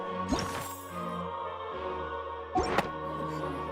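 A heavy thud sounds near a box in Genshin Impact, with two dull impacts against a steady game ambience: one early, and a louder one later.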